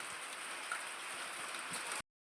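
Rain falling outdoors in a village setting, a steady soft hiss of drops that continues evenly for about two seconds before cutting off abruptly, with no voices.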